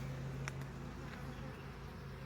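Honey bees from a first-year hive being split in summer hum around the opened boxes, a steady close drone with a few louder passes near the microphone and no talking.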